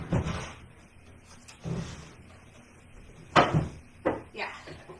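A drawer is opened and rummaged through in a home craft setting while someone searches for a dropped item, giving soft sliding knocks and a couple of sharper bumps under low talk.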